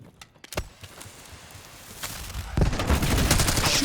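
Gunfire crackles in Call of Duty: Black Ops 6 multiplayer, starting with scattered sharp shots and footsteps, then swelling into a loud, sustained burst of rapid fire.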